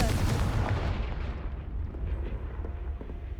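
A Confringo blast spell cast in Hogwarts Legacy, a loud, rumbling explosive burst at the start that rolls off into a dense, fading roar of fire and debris, with no voices over it.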